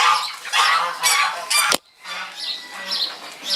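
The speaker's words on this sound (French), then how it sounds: "Ah, mes oies sont en face." Geese honk loudly in several close, overlapping bursts, with a short silent gap midway before more honking follows.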